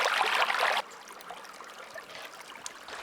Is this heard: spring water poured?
yes